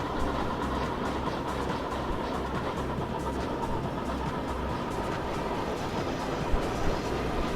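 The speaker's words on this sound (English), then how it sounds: "Here comes a bunch of trains." Trains run in the simulation game Chris Sawyer's Locomotion, a continuous rumbling roll with rhythmic rail clacks, steady and fairly loud with no talk over it.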